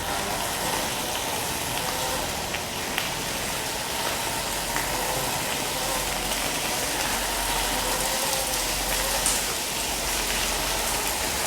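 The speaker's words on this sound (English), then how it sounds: "It's raining on my head right now." Steady, dense rain hisses continuously and close by, a broadband wash with occasional small pattering hits and no talk.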